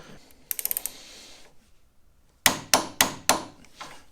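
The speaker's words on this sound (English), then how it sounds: "Now we can go ahead and get all these lock tabs bent over." Lock tabs on a dune buggy steering box are bent over with a tool, heard as a quick burst of light metallic taps, a pause, then four louder spaced hammer-like strikes close by.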